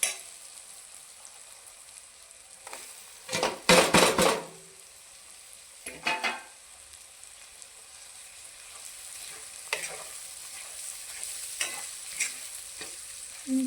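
Coriander and tomato dropped into masala-coated oil for a Marathi khar vang (eggplant) dish, with a soft steady sizzle broken by a few louder bursts of stirring and pan scraping, no talking.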